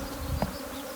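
A steady, close insect buzz of honeybees during hive frame handling fills the whole short moment, with no voices.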